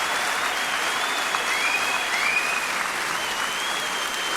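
Steady audience applause from a played recording of a live performance, a dense, even clapping that fills the whole stretch without pause.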